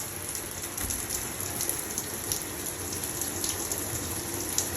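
Running water rinses a bathtub as a steady, soft spattering hiss with small splashes throughout, moderately faint and with no voices.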